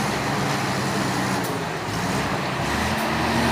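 A Rizky Abadi bus on the road from Pekanbaru to Medan drives past, a loud, close, continuous engine and tyre roar mixed with surrounding traffic noise.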